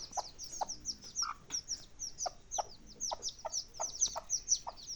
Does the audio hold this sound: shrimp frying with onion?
no